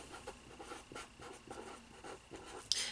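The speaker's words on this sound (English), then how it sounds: "So I'm going to label it as shape stickers." A pen moves across paper, hand-writing a label for shape stickers in a second-grade math review, with short, quiet scratchy strokes in bursts, close to the microphone and with no voice over it.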